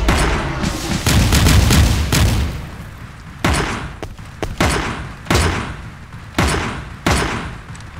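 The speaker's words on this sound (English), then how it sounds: "Say hello to the rocket launcher demon thing" Rocket launcher demon attacking in the video game Teleglitch, a heavy barrage of booming blasts and thuds, with a dense burst at the start followed by evenly spaced loud explosions.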